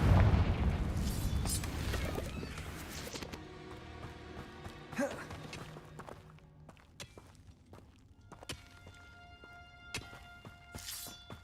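A Confringo fire spell explodes in the Hogwarts Legacy video game, a loud broadband blast at the start that rumbles and fades, followed by scattered impacts, footsteps and a few softer booms, with faint voices in the background.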